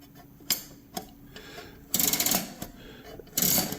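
Archer Plus-O-Matic mechanical adding machine at work: crisp isolated clicks of wheels advancing, then two louder bursts of whirring, ratcheting mechanism, all close and without voices.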